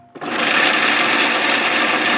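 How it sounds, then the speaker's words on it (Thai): A kitchen blender runs steadily on a low setting, chopping garlic, a loud continuous whirring motor that starts abruptly and holds without pause. "นำกระเทียมใส่เครื่องปั่นได้เลยครับ เราจะใช้เบอร์เบาพอนะครับ เพื่อปั่นไม่ให้กระเทียมมันละเอียดมากเกินไปครับ"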